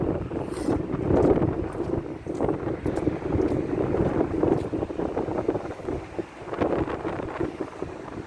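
Wind gusts across the microphone outdoors beside a 2021 GMC Yukon AT4, a steady broadband roar rising and falling in buffets for the whole stretch, with no voices.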